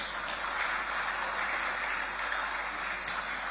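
A crowd applauds a sponsor, Intels, at a live morning event, giving a steady, dense wash of clapping that holds at an even level throughout, heard at a distance with no voices on top.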